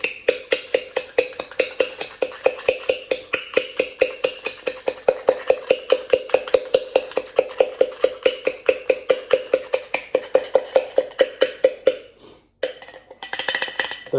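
The end of a wooden spoon muddles turbinado sugar and bitters for an Old Fashioned, making a steady rapid series of close, hollow knocks against a glass that slow and stop near the end.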